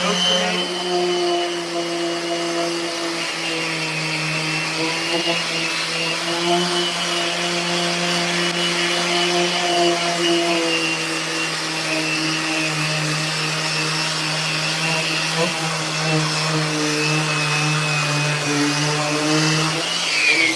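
Continuous droning whir of an electric sander working skateboard wood with the grain, loud and steady, its tone wavering slightly as the tool moves back and forth.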